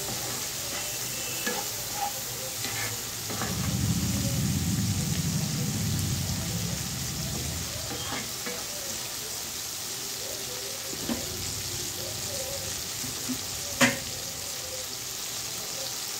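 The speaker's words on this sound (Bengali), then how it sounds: "লাল শাক দেওয়ার আগে আবার একটু নাড়াচাড়া করে নিচ্ছি, যেন মাছটা পোড়া না লেগে যায়।" Prawns sizzle in a pan while being stirred, a continuous crackling hiss broken by a spatula scraping and clinking against the pan, with a louder burst of stirring near the start.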